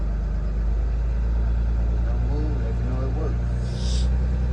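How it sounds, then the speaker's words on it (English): A school bus engine is revved up to about 1500 RPM in drive with the park brake set during a pre-trip brake test, giving a steady, loud, continuous low rumble with voices briefly over it. "I raised it up to almost 1500 RPMs."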